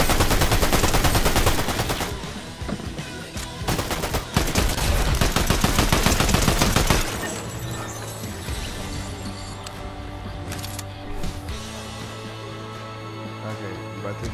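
Rapid bursts of gunfire from a Fortnite match, dense and loud for the first seven seconds with sharp volleys, then easing into a quieter game backdrop with a steady hum.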